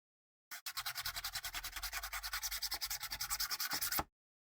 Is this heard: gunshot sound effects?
no